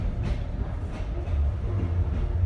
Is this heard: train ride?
yes